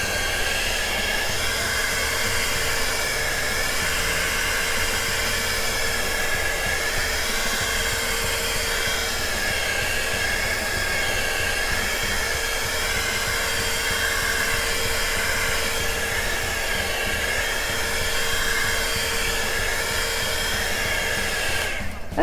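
A heat tool blows hot air over an acrylic puddle pour painting, producing a loud, steady fan roar that runs unbroken throughout with no voices.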